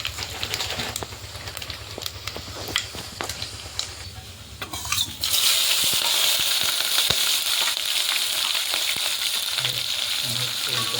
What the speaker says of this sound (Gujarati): દાળનો વઘાર કરવાનો છે.